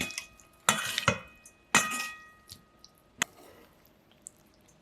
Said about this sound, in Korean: 올리고당 넣고 크러쉬드 레드페퍼와 검정깨 뿌려 살살 섞어줄게요